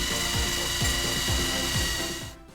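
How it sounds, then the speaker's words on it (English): A power tool polishes the machined surface of an aluminum EJ-series intake manifold, its motor whining steadily and wavering in pitch as it presses and rubs, close and loud before tapering off at the end. "So I'm going to move on to this next one and polish this sucker real quick too."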